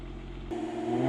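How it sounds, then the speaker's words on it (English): A Lotus Emira's exhaust swells under load as the car passes, a steady mid-pitched engine drone that jumps louder halfway through and holds, heard from outside with no talk. "do some flybys here so you guys can get an idea of what the exhaust car sounds like under load"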